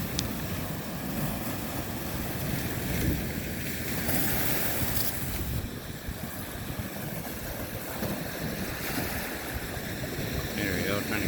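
Waves wash against the Lake Michigan shore in early spring, a steady, close roar of surf and churning water that continues without pause.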